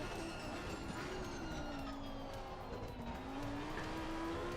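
A Porsche race car engine in a racing video game drones at a low level, its pitch climbing gradually through a gear, mixed with road and track noise and no speech.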